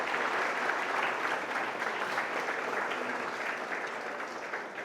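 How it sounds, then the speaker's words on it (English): Students give a sustained round of applause, dense and even clapping that holds steady for several seconds before easing slightly, with no voices over it. "Big round of applause for Kumar sir."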